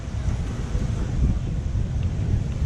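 Strong wind buffets the microphone in a constant low roar on a cloudy day at Princess Cays, with gusts swelling and easing; no one speaks.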